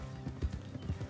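Horses' hooves clip-clop on the ground, several dull, close thuds in uneven rhythm over about a second, fairly faint.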